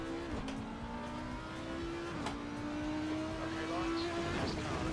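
An Audi race car in the ACC racing video game holds a steady engine whine that rises and drops with gear shifts, at moderate volume, under faint background noise.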